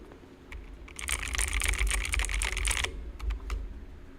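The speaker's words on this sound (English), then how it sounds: "I'm typing with my gaming keyboard now." Rapid, clicky typing on a gaming keyboard, a dense burst of keystrokes for about two seconds, then a few scattered taps, close up.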